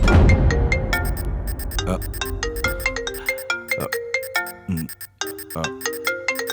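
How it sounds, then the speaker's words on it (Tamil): A mobile phone ringtone plays a bright, repeating melodic chime pattern for several seconds, fairly loud and close, over a low rumble at the start and with no talk. "மேடம், நீங்க போன் அட்டெண்ட் பண்ணுங்க."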